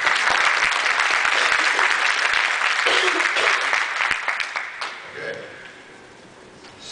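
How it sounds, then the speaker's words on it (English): Clapping fills a WSFS business meeting hall in appreciation of a member's contribution, loud and steady at first, then tapering off into quiet room tone as a voice speaks briefly. "Perhaps we applause for his contribution"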